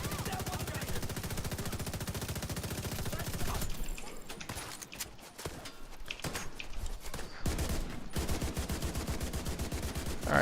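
Rapid automatic gunfire from a Division 2 firefight rattles in dense sustained bursts, with a brief choppier stretch of scattered shots in the middle before the continuous fire resumes, loud and close.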